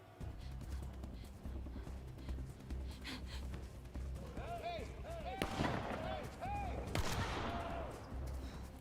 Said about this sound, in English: They're shooting at it.